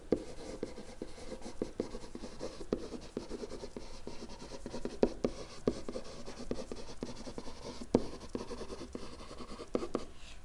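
Pen or marker scratching steadily across a board or paper while an equation is written by hand, a close, continuous scraping with short taps and strokes, no talking.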